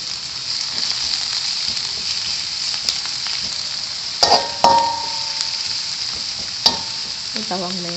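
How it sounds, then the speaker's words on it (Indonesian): Shallots and spring onions sauté in hot oil for mie goreng, a steady sizzle with scattered clinks and scrapes of a utensil stirring in the pan. "Ini bawang merah, daun bawang, daun putih kita tumis sampai layu."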